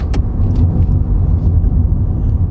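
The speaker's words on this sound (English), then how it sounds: "Yes, there is road noise." Steady low road rumble inside a SEAT Mii Electric on the move, a continuous dense hum of tyres on tarmac that stays constant throughout, with no voices present.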